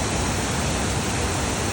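A small waterfall on a river at a duck pond in downtown Milford, Connecticut, rushes as a steady, loud, close broadband roar with no other sounds.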